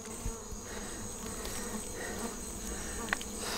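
Wasps drone in a close, steady buzz with bees nearby, a continuous insect hum with a few faint knocks and a brief sharp note near the end.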